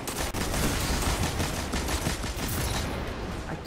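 Sustained machine gun fire in the shooter Destiny during a Season of Opulence raid, a loud, continuous stream of rapid shots with mechanical rattle and no talking.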